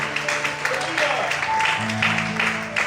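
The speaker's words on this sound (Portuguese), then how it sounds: "Quantos podem aplaudir e exaltar o Senhor?" A church congregation claps to praise the Lord during a Christmas sermon, uneven rising and falling applause with voices and sustained tones mixed in beneath it.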